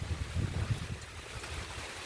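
Heavy rain on a Sunday in Paraíba in Brazil's northeast, with runoff water streaming and puddles forming, makes a steady broad wash with low rumbling gusts, moderately loud and continuous, with no talking.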